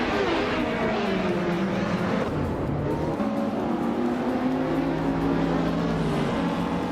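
Race cars in a video game roar continuously, engines whining and shifting pitch as they jostle for position in a close pack, steady and loud throughout with no talk.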